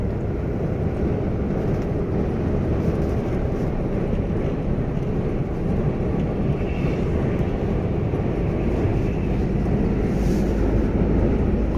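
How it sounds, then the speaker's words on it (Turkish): Continuous broad roar of an airplane with landing gear down, passing low overhead toward landing, steady and fairly loud throughout, blended with wind and road noise heard from a moving truck. "Uçakla beraber aynı anda geçiş yapıyoruz."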